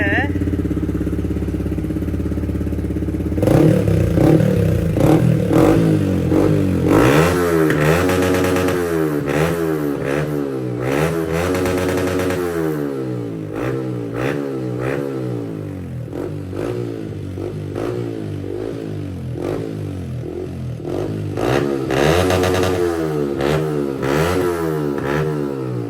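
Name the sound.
Yamaha MT15 motorcycle with Akrapovic exhaust revving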